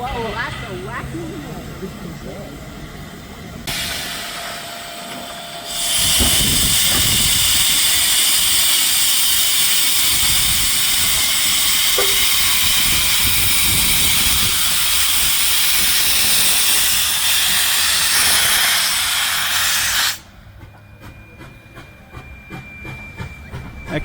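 A steam locomotive at the Thirlmere train museum releasing a loud, sustained hiss of steam that holds steady for about fifteen seconds before cutting off, with softer mechanical noise around it and people talking nearby.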